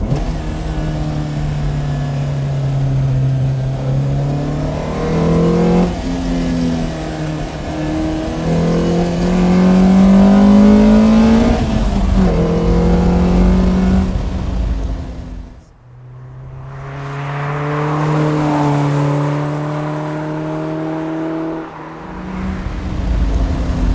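A Lotus Elise S1 mid-engine sports car drones and revs through rising and falling gears, loud and close, with a brief lift-off dip before pulling hard again.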